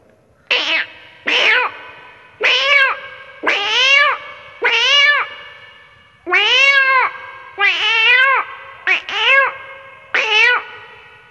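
A man mimics a young cat meowing with about ten short, bright meows in a steady, fairly quick rhythm. Each call is close and loud, with no other sounds.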